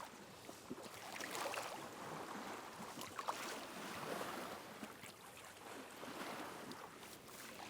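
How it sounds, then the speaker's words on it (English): Waves crash onto the shore in cold water on a windy January day while pike fishing, with continuous surf wash and gusty wind buffeting the microphone throughout, with no voices. "It's a windy all day, those waves are crashing in."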